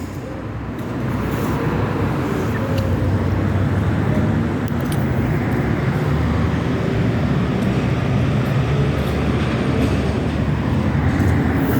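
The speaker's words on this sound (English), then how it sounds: "Oh, what a useless bus." A bus rolling past, a heavy, continuous low rumble that swells in the first second and then holds loud and steady, with road noise throughout.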